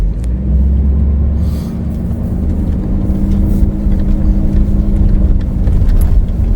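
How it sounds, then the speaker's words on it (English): A vehicle drives across rural Missouri land on an old trail up a ridge, a loud, steady low engine rumble with road and tyre noise close by, holding even throughout with a few faint knocks from the cabin. "Yeah, we're going to drive through it all."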